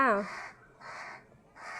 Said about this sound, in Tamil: ஒரு ரெண்டு மூணு காக்கா வந்து பாத்திரத்தை உருட்டிட்டு கிடக்குறாரு